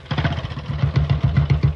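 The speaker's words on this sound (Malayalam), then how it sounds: "അവിടെ ബൈക്ക് സ്റ്റാർട്ട് ചെയ്ത ശബ്ദമാ" A motorcycle engine starts and idles close by with a rapid, even thumping pulse that repeats several times a second over the short stretch.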